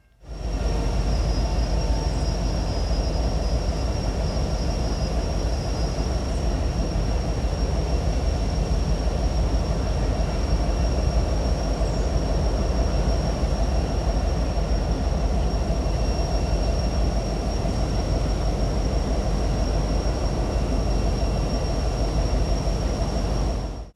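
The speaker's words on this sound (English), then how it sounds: "After the train rolled to a halt" Freight train locomotive 265 rolls to a stop near a road crossing, giving off a loud, steady rumble with a constant high whine that holds throughout without a break.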